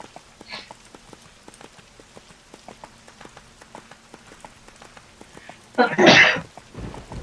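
One sharp, loud sneeze bursts out near the end, after a stretch of quiet, regular light ticking and patter, with a softer sound trailing just after it.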